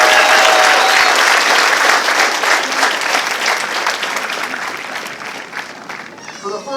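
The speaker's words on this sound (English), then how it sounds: "Please, a huge round of applause for our dedicated recruiters." Loud, sustained applause from an audience at a Marine Corps recruit family day ceremony, honoring the recruiters; dense clapping with crowd noise fills the hall and slowly tapers off.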